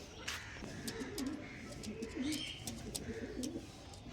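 Pigeons coo softly in repeated low throaty phrases, with occasional faint chirps and ticks over a steady background hiss, moderately close, no talk.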